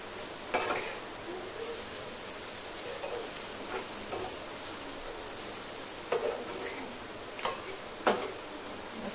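Dried shrimp curry with raw mango being mixed in a pan, a soft continuous sizzle broken by occasional sharp scrapes and clicks of a spatula, fairly quiet and close.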